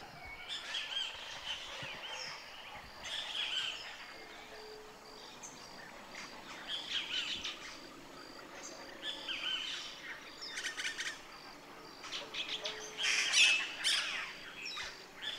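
Many birds sing by the Huatulco River in the morning, a faint, distant chorus of squawks, chirps and tweets rising and falling in bursts over a quiet background with a soft insect trill.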